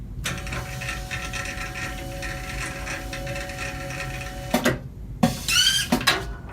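A Colman GEMfix XC automatic roll-to-sheet cutter runs a test cut: a steady mechanical whir with ratcheting tones, then a few sharp clunks as the cut finishes, with no voices.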